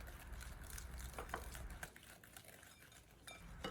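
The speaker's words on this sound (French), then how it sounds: "Et je mélange bien l'ensemble." A spoon works through a cream mixture thickened with sifted cornstarch in a bowl, giving faint, close clinks and soft scraping strokes against the sides in a loose, uneven rhythm.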